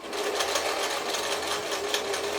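A German-made Singer 720 sewing machine stitches at its minimum speed, running as a steady close-up mechanical whir with an even, rapid clatter and no talk.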